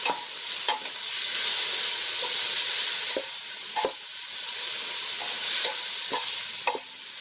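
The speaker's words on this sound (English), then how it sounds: "Just saute the garlic, onions, tomatoes, and the ginger." Garlic, onions, tomatoes and ginger sauté in a pan for spicy Bicol Express, a steady sizzle running throughout with several sharp spoon scrapes and taps against the pan scattered across the clip.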